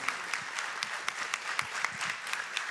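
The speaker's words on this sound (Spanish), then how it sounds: "pido un aplauso para ellas que hoy aquí nos acompañan" A conference audience applauds steadily, a dense wash of clapping with a few sharper individual claps standing out near the listener.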